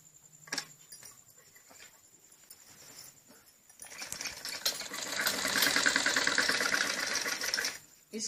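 Sewing machine running a steady, continuous stitch along a salwar seam, starting after a few quiet handling taps and building into a fast, even whir that fills most of the clip before stopping abruptly.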